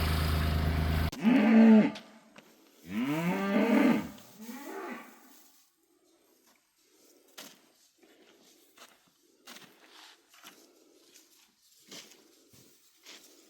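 Cattle on a hay farm low out in a few deep, drawn-out moos close by, then the herd falls quiet while soft scattered thuds and shuffles continue in the background.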